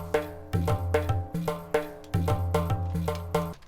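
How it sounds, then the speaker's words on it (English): Traditional Punjabi percussion loop for a drill beat: repeating hand-drum hits with deep resonant bass tones in a steady, bouncing rhythm, fairly quiet and heard alone without voices. "I've got like a more traditional punjabi type perk,"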